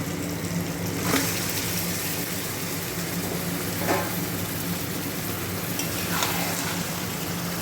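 Mutton frying with onions in a pan, a steady broadband sizzle with a few brief stirring scrapes, close and continuous throughout.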